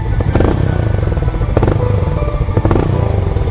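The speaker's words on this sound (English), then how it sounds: "That's our bike for the ride." A red Harley-Davidson X440 motorcycle rides along, its engine giving a steady, loud low rumble throughout with a few brief rattling bursts.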